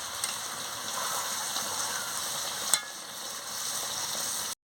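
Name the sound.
stirring chicken curry with purple yam after adding water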